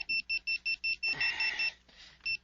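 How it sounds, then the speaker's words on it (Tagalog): An alarm clock set for 3 a.m. beeps in short, loud, evenly spaced bursts, briefly blending with a rustling sound midway before the beeping resumes. "Natingog na ng alarm ni mo"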